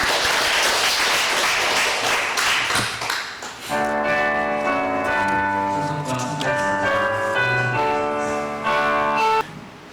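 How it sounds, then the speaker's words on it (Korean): Congregation clapping in a Korean church service after a prayer, a dense burst lasting a few seconds before giving way to sustained keyboard music with ringing tones. "영광의 박수 드리겠습니다."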